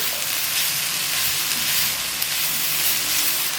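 Bite-sized chicken pieces fry in a pan for chicken macaroni, giving off a dense, steady crackling sizzle close up with no pauses.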